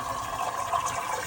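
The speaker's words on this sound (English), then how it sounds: "rinse this noodle with the cold water, so the noodle will become more chewy and more tasty." Cold tap water runs steadily over cooked noodles as they are rinsed after boiling, a continuous close splashing rush with no talk.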